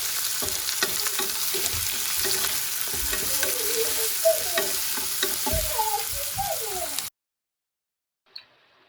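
Onions fry in a pan while being stirred, giving a steady, busy sizzle with scraping and stirring strokes for about seven seconds before the sound cuts to near silence.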